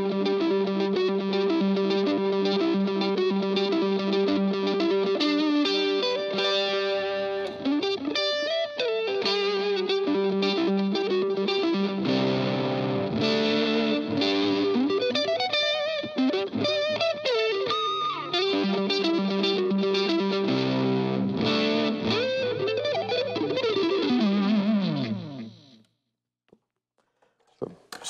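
Electric guitar run through a tape echo delay, with a vintage tape sound on the repeats, playing sustained chords and melodic lines that trail off in echoing repeats, loud and continuous before fading near the end.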